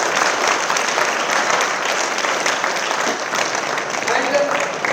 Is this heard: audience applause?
yes